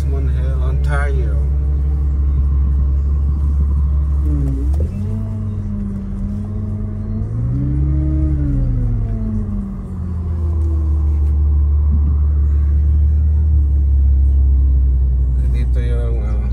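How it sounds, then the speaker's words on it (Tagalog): A Bentley car on a quality-control test drive near Richmond Hill, Ontario, gives a low, steady engine rumble that rises and falls in pitch as it accelerates, with a voice talking over it. "Dito yung driving test or test drive ng mga ginagawang sasakyan."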